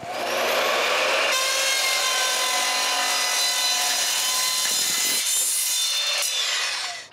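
Wooden gable trim boards for a firewood shed are cut at the roof angle, giving a steady, loud, continuous sawing rasp that carries on for several seconds with small shifts in pitch.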